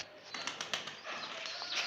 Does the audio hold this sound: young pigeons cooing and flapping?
yes